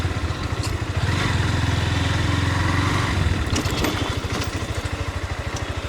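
A motorcycle on an unpaved mud village road in Bogura, Bangladesh, its engine chugging steadily close by, with a rhythmic low putter and some clatter as it rolls along.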